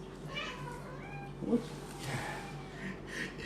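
A cat meows several times indoors, fairly close, with drawn-out, wavering calls over a faint background hum.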